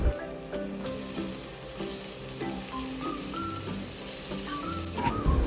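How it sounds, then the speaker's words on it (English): Finely chopped tomatoes and green chilies sauté in a pan with a steady close sizzle and crackle, under soft background music. "Saute the tomatoes"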